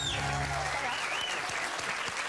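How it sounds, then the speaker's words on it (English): Studio audience applause on a TV show, a steady wash of clapping filling the short stretch with some voices mixed in at the start. "a big round of applause for Alex Alexander"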